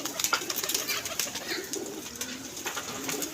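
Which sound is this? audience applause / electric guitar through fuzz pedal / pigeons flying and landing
pigeons flying and landing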